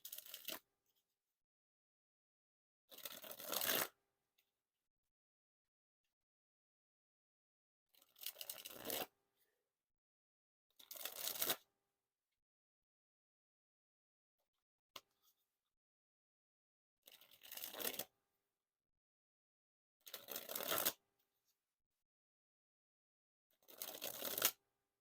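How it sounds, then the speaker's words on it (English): Blue Innovation playing cards by Black Ink dribbled from hand to hand, eight separate close, crisp fluttering bursts of about a second each with silent gaps between them, no voices. "And then dribble the cards."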